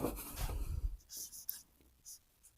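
Chalk or marker scratches out maths on a classroom board in short, close strokes and scrapes, following a brief bit of speech at the start.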